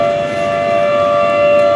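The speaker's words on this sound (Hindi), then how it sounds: "और ये बजा भी सायरन खाना खाने का" Factory lunch siren at a cement company, a loud sustained steady wail holding one pitch throughout, alone without talk.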